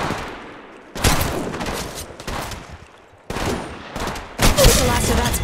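Bursts of Apex Legends gunfire in repeated loud volleys, some rapid like automatic fire, separated by short quieter gaps, with game sounds between them.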